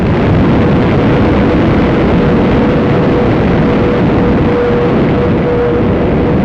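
A loud, continuous low rumbling roar fills the whole stretch, dense and steady like a heavy blast or rocket-engine thunder, with no clear individual impacts; tied to the World War II German V-2 rocket.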